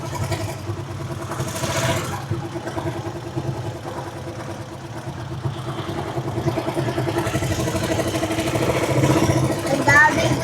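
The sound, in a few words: many motorcycles engines idling in parking area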